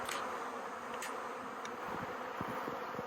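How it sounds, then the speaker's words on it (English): A swarm of bees hums in a steady, dense drone close by, loose bees lingering in the air beside a branch and a bucket during a swarm capture; no talking. "lot of bees weren't able to get in that bucket just because the bucket's only so wide"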